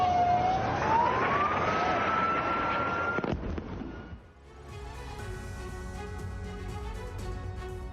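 Alert siren wailing in Khan Younis, Gaza: a loud rising tone for about three seconds that cuts off abruptly, then gives way to fainter layered tones and background noise.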